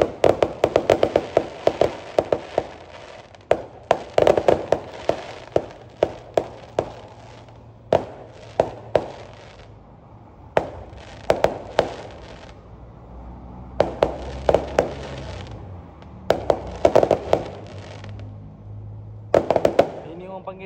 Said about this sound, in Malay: Bunga api tak habis